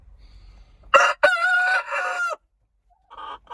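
A Sasso rooster crows loudly and close, one long call after a short cluck, followed by fainter clucking from Sasso chickens.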